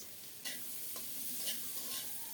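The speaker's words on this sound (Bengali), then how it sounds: "মরিচ আর পেঁয়াজ নেড়ে ছেড়ে খুব সুন্দর করে ভেজে নিয়েছি" Chopped onion and chillies fry in hot oil in a pan, giving a steady close sizzle with a few stirring scrapes, and no one speaks.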